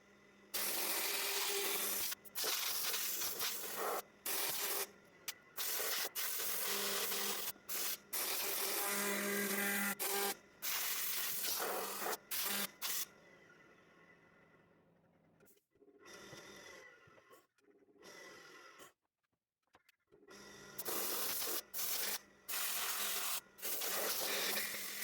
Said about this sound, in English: So I got around and I blew it out again after I'd given it a run.